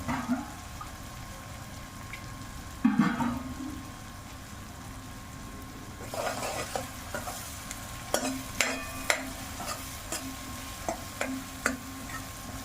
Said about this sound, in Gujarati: આવી રીતે વઘાર ચડવા દેવાનો